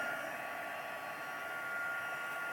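A hair dryer blows steadily on a craft item at home, a continuous loud airy whoosh with an even motor whine throughout, no voices.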